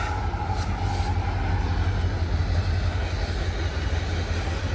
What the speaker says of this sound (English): Got the train right here.